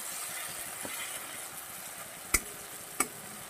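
Bhola fish curry frying in oil gives a faint, steady sizzle close by, broken by two sharp clicks or knocks near the end.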